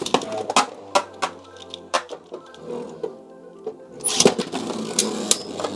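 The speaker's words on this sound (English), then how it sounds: "got some scraping and a knockout" Beyblade spinning tops scrape and clatter inside a plastic stadium, a run of sharp metallic clicks and ticks with quiet gaps, then a busier cluster of scraping hits near the end.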